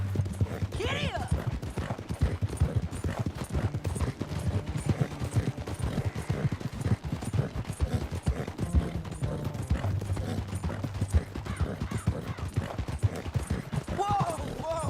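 Horse hooves clip-clop steadily at a gallop through the whole stretch in the video game Red Dead Redemption 2, moderately loud, with a voice calling out over the rhythm and brief game sounds layered in.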